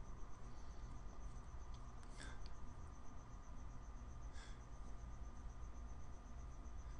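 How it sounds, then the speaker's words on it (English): A single cricket chirping outdoors, a steady high thin trill running the whole time beneath a constant low hum of room noise, faint and distant rather than loud. "It's loud. It's a loud cricket."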